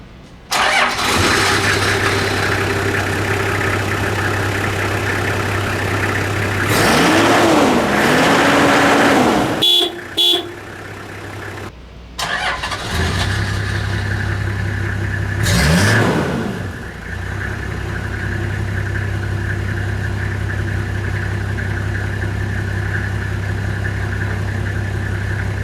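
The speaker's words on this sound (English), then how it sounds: "You really need to listen to the sound of this beast." A Toyota Land Cruiser LC78 with its 4.2-liter 1HZ diesel engine cranks over, fires up loud and close, and settles into a steady rumbling idle, with a brief revving surge midway and a short horn toot.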